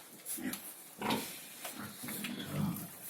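Pigs and piglets grunt and snuffle while being fed on a farm, a close, fairly quiet run of overlapping low grunts with no talking.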